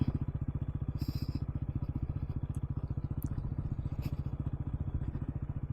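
A motorcycle engine cruises steadily while riding, with a fast, regular low thumping pulse, close by, with faint clatter and occasional light rattles.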